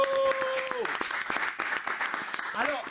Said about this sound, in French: public, s'il vous plaît, applaudissez pour Guizo